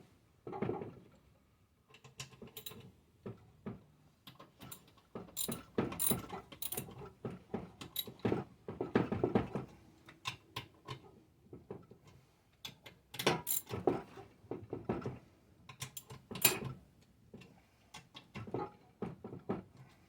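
Ratchet wrench torquing motor bolts during a Raptor 3 motor swap, with repeated bursts of close, crisp ratcheting clicks and pauses between strokes, fairly quiet and without talk.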